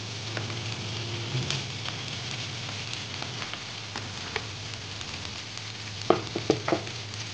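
Mashed boiled potato is stirred in a frying pan as filling for singara-style puli pitha, giving a steady low sizzle with light scraping, and a few sharper clicks of the spoon near the end.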